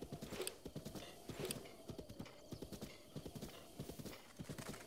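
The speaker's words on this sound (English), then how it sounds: "I love this horse." A horse galloping in The Legend of Zelda: Breath of the Wild, with rapid, even hoofbeats throughout, close and clear, and a brief whinny near the start.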